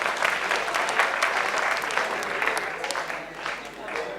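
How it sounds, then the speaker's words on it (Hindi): Audience applause at a comic mushaira in Delhi welcoming a poet to the stage, a steady dense clatter of many hands clapping throughout, loud and close. "ज़ोरदार तालियों से इनका इस्तकबाल कीजिए।"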